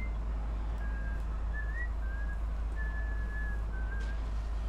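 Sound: person whistling the Aladdin song

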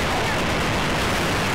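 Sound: gunfire in the video game Resistance

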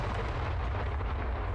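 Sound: thunder in a video game

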